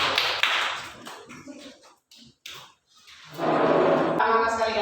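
A classroom of pupils clapping together in a burst of applause near the end, after a stretch of a teacher talking.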